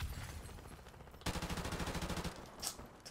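Rapid automatic gunfire in Call of Duty Modern Warfare Remastered, a fast even burst of shots lasting about a second after a quieter stretch, fairly faint and alone.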